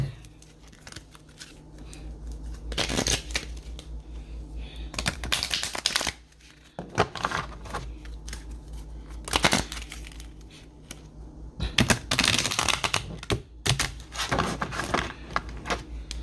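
A Seasons of the Witch tarot deck is shuffled in several separate bursts of riffling and rustling card noise, close and fairly quiet, with brief pauses between handfuls.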